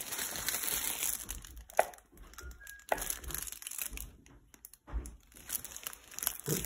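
Clear plastic film crinkled and handled up close, a steady crackling rustle with sharp crunchy snaps and brief quieter gaps, fairly loud throughout.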